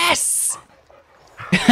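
A dog in the Blair Witch video game lets out a high whimper and some panting, followed by a quiet pause. A person speaks near the end of the moment.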